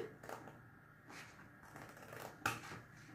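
Scissors used instead of a utility knife while framing a Halloween canvas give a few faint, dry snips spread across a quiet room, with no voices.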